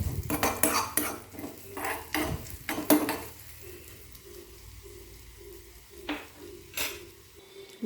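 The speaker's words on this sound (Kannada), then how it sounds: "ನೋಡಿ, ಈಗ ಅದೇ ಎಣ್ಣೆಗೆ ಸ್ವಲ್ಪ ಈರುಳ್ಳಿ ಹಾಕ್ಕೊಳ್ತೀನಿ" A spatula clatters and scrapes repeatedly against a pan as onion is stirred and lightly fried in oil for egg fried rice, with sharp clinks early on, then a soft sizzle and a few more scrapes.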